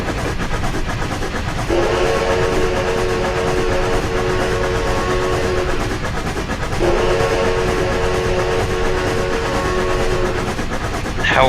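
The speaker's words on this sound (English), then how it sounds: "This train coming through the night, that whistle." A K4 steam locomotive on Horseshoe Curve in Train Simulator 2015 sounds its whistle at night, two long, loud sustained blasts separated by a short gap, over a steady rumble of the train.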